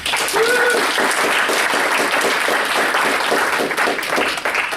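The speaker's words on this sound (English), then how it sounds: "I appreciate the applause beforehand" Workshop audience applauding continuously and loudly for the whole stretch, a dense wash of many hands clapping with no pauses; faint whistle-like tones rise briefly near the start.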